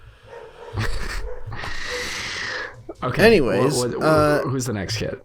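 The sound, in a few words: dog barking in the background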